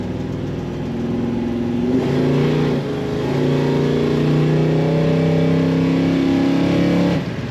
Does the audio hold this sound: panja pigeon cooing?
no